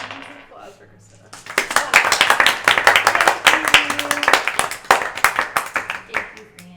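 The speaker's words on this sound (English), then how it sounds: "Hands and applause for Christina." An audience bursts into clapping and applause, starting after a brief pause and running dense and loud, with a few voices calling out over the claps.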